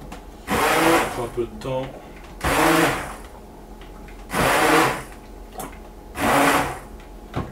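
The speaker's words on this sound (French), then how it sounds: "je mixe les bananes dans mon mix de base" Bananas being blended into an ice cream base, the blender running in four loud, separate bursts of about a second each, with a person talking in the quieter gaps between them.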